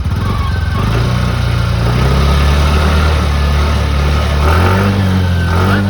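A TVS Jupiter 125 scooter idles steadily with a low, even exhaust hum, close and loud throughout with no talking.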